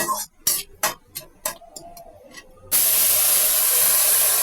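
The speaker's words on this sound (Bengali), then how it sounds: "এই স্টেজে আমরা জল দিয়ে দেবো" Rhythmic tapping gives way to a sudden, loud, sustained steam hiss as about two glasses of water are poured onto roasted semolina in a hot pan, a Kumari puja bhog offering.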